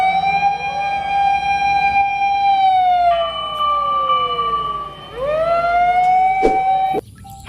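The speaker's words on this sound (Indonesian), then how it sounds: "yang ini mobil pemadam kebakaran" A toy fire truck plays an electronic siren that wails in loud, rising and falling sweeps close by, breaking off briefly midway and stopping near the end.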